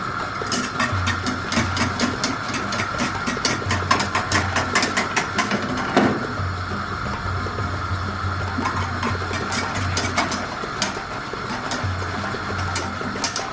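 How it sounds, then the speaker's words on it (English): Green millet porridge for kunu kanwa being whisked in a pot, a steady run of quick, clattering metallic strokes close by, alone without talk. "I'll just use the whisk, and then I'll put it in bits"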